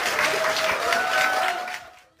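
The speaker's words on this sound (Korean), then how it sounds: "뭘 박수야, 이게!" Studio audience applause during an interview, a dense, steady round of clapping that fills the room for about two seconds and then quickly fades out.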